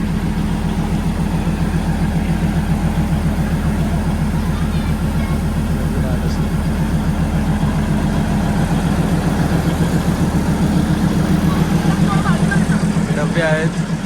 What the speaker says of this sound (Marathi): ट्रेनचं इंजिन बघू शकता